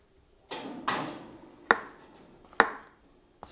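A stainless steel knife chops fresh mushrooms on a board in a kitchen, five crisp separate knife strikes spaced about a second apart, close and clear with no talking.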